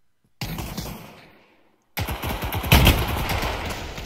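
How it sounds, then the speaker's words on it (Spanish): Gunfire in the Pavlov VR shooter game: a burst of rapid shots, then a pause, followed by sustained loud automatic fire with a sharp peak partway through, close and dense. "Por acá está todo el tiroteo."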